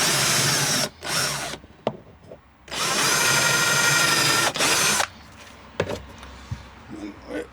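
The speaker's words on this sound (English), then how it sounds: "I'm going to put a little pilot hole through first anyway, because I don't want to split this wood" A power drill bores a pilot hole through softwood timber, running in two long sustained whirring bursts separated by brief pauses and small knocks, loud and close with no talk over it.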